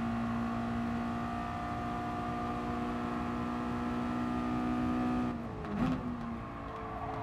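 A steady car engine hums at a constant pitch in Gran Turismo Sport, then abruptly drops and shifts as the revs change near the end, with no talking.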